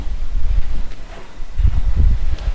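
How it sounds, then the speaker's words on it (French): Wind gusts outside an abandoned clinic at night, buffeting the microphone in low, rumbling surges that swell and fade, loud and close. "on dirait un coup de vent. C'est ça, c'est le vent."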